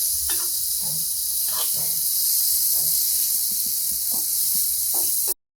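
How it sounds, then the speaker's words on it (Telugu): Bitter gourd fries in a pan with a constant bright hiss and sizzle while it is stirred, with soft scrapes and clinks of the utensil beneath, ending abruptly. "తిప్పుతూ ఒకసారి వేయించుకోవాలి."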